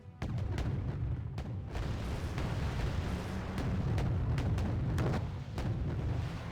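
A 130 mm dual cannon fires in the video game Arma 3, a steady run of heavy booming shots and sharp blasts with broadband rumble, loud and continuous across the whole stretch.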